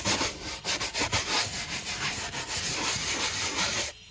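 A scrub brush works over a car interior surface in steady, rhythmic back-and-forth strokes, loud and close, roughly two strokes per second before stopping abruptly near the end.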